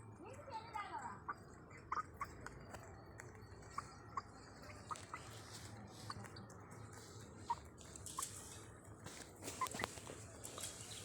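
Small chicks along with a rooster and two hens pecking and competing for feed, giving soft scattered clucks and peeps over a steady low background hum, with a voice talking throughout.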